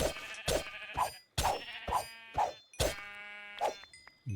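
Sheep in the game RLCraft, a Minecraft modpack, bleat repeatedly in quick succession, about seven close, clear calls over a few seconds with no talking.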